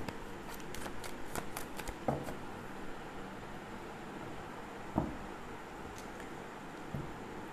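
A tarot card deck is shuffled close by in a quiet room, giving soft papery riffles and rustles with a few sharper slaps of cards striking together.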